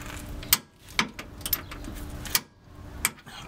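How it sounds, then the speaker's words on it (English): A torque wrench tightening bolts to 84 foot-pounds on rigid collars, a few sharp metallic clicks and ratcheting clacks spaced unevenly over a few seconds, close and fairly loud, no talk. "Let's hit that with the torque wrench just to be sure."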